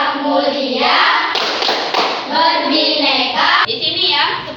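Children in a sixth-grade Indonesian class, on their feet, clap out a rhythmic pattern with patters of taps and claps interleaved with chanting voices, close and lively.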